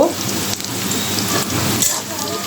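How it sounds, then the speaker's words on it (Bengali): Green chillies, bay leaf and onion drop into a generous amount of hot oil for a shrimp curry, making a dense, rain-like sizzle that stays loud and close for the whole stretch. "দিয়ে দিব কাঁচামরিচ তেজপাতা আর পেঁয়াজ"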